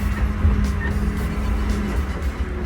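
A Mitsubishi MM45B 4.5-ton excavator with a cab runs steadily during a test drive, its engine giving a low, constant drone with a faint whine and no talk over it.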